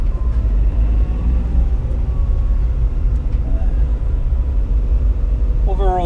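A 1989 Mitsubishi MiniCab kei truck with a 550cc engine accelerates on a test drive, giving a steady, loud cabin rumble throughout with a brief squeak near the end.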